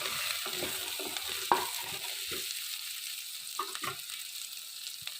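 Soft sizzling of eggplant sautéing in a pan with occasional scraping and stirring clatter, quiet and close, no talking.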